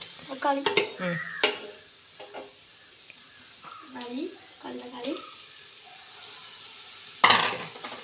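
Tomato, onion and green chilli fry in a pan under faint, steady sizzling while voices speak over it, and a sharp stirring scrape sounds near the end.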